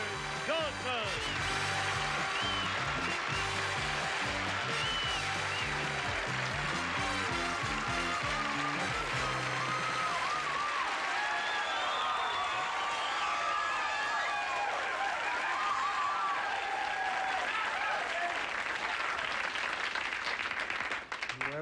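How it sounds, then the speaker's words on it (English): A studio audience at a 1979 Family Feud taping claps loudly over a bright theme tune, the applause carrying on after the music drops away, with a host's voice briefly over it. "that applause is for naught"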